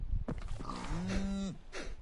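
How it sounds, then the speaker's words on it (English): Cattle mooing in Minecraft Bedrock Edition: a short low call opens, then a long, steady, drawn-out moo with a clear falling tone, followed by a brief faint call near the end, all without speech. "you hear some of those cow sounds? They definitely added sounds for the cows."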